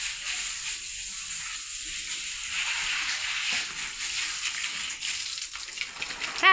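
Water sprays steadily near a cement and sheet-metal cattle shed on a farm, a continuous hissing rush with slight surges and no voices.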